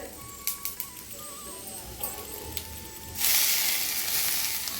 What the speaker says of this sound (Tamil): இது கொஞ்சம் வறுபட்டு இருக்கும் போதே நம்ம கருவேப்பிலை சேர்த்துடலாம்